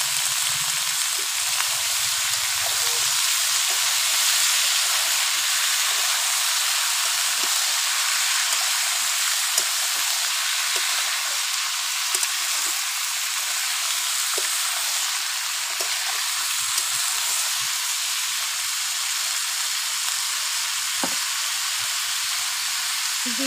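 Cut papaya pieces sizzle steadily in a hot pan, a continuous bright frying hiss with occasional soft pops and stirring clicks, no voices.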